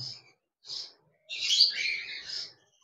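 Close, loud chattering lory calls: two short shrill squawks, then a longer scratchy chattering burst, with brief silences between, at the Mirpur bird market in Dhaka.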